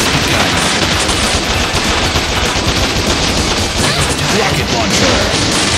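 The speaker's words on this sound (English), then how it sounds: "Machine gun." Rapid, sustained machine gun fire rattles loudly in the Bot Vice video game, dense bursts running nearly six seconds amid crashes and impacts, with a voice briefly heard over the action.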